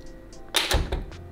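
An apartment door in a Tokyo flat swings back and knocks against its door stopper, a short cluster of two or three close thuds and clicks in a quiet room.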